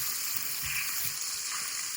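Shrimp coated in blackened seasoning sizzle steadily in a hot pan, a dense, continuous close-up crackle with soft clinks and stirring underneath.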